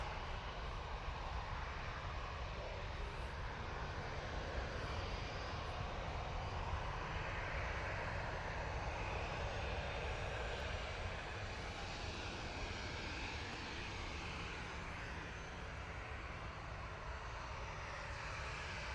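A Ryanair airliner takes off for Belfast at Manchester Airport, its engines a steady, broad roar that holds evenly for the whole stretch, heard from some distance.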